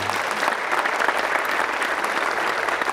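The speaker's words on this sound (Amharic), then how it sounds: "እንደው ለዩጋንዳ በደንብ አድርጋችሁ አጨብጭቡልኝ" Dense, steady applause from a large audience at a public talk in Ethiopia, loud and close, sustained evenly for the whole stretch with no voices on top.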